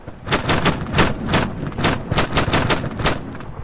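Rapid gunfire from Arma 3 set in the First Chechen War around Grozny's central station: a dense run of loud, sharp shots, about a dozen close bursts in quick succession with no talk.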